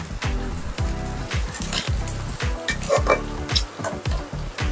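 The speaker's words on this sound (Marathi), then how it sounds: "आणि हा कांदा टाकूया आपण आता. आणि याला थोडं परतून घेऊ." Onion frying in oil with mustard seeds for eggplant bharit, a continuous crackling sizzle with rapid pulsing bursts and occasional stirring scrapes, close and fairly loud.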